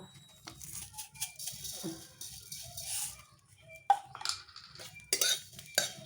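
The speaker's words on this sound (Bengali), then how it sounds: "কালো জিরেটাও একটু খালি খোলাতে আমি নেড়ে নেব" Green chili, garlic and nigella seeds are stirred in a dry pan with no oil, giving light scattered scrapes, rattles and clinks of a spoon on metal over a low steady hum.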